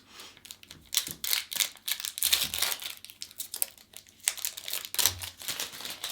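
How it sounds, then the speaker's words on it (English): Football magazine sticker packs are cut and torn open: close, busy crinkling foil wrappers with sharp snips and rustles in uneven bursts, no talking. "let's cut these packs open and let's open them, shall we?"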